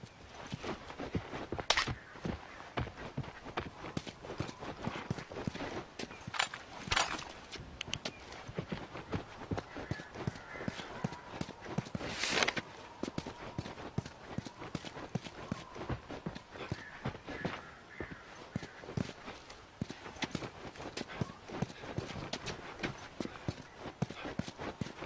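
Steady horse hooves clip-clop through a stretch of The Last of Us video game, a continuous rhythmic trotting of moderate loudness that carries on with little break, joined by an occasional brief faint voice.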